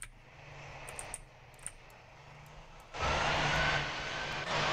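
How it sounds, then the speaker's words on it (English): Propeller airplane engine in the flight game Pilot Training Simulator hums at a low idle with a few soft clicks, then swells sharply into a louder, steady drone. "I gotta move this plane."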